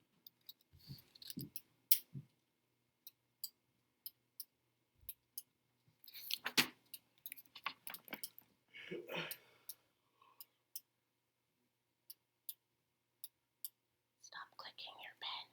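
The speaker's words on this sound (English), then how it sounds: "Stop clicking your pen." Sharp, repeated clicks from a ballpoint pen in a classroom during a math lesson, coming in scattered bursts and single taps over quiet stretches, with some whispering and soft movement.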